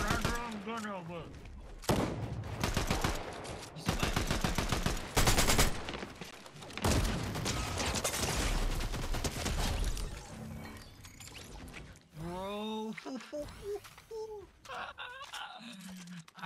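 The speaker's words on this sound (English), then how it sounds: "I had the wrong gun out. I just started shooting him." Fortnite gunfire in a ranked match rattles in loud rapid bursts, broken by pauses, while a player talks and exclaims excitedly over the shooting.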